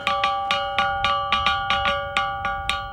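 An ancient rock gong, worn smooth and dating to around 5,000 BC, is struck about a dozen times in a steady even beat; each hit rings out with a bright, bell-like tone that decays quickly, close and alone.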